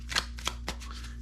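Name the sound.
shuffling a deck of cards for Warfighter board game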